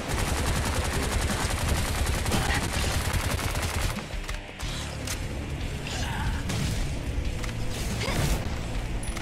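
Rapid automatic gunfire from an arcade shooter game, dense and loud throughout with mechanical clatter, easing briefly around the middle before the shots and effects pick up again.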